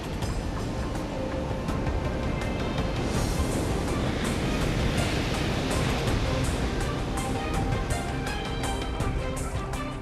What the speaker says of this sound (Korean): 성난 파도는 조업선을 향해 무섭게 돌진한다.